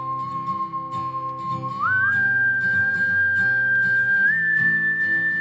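A person whistles a clear, sustained tune over a backing music track during a local music show, holding long notes that rise partway through, prominent and bright above the accompaniment.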